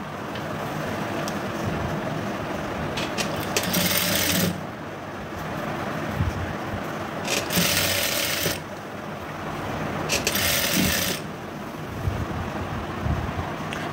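A sewing machine stitching blouse fabric, running in long steady whirring bursts with brief pauses between them, close and fairly loud with a noisy background.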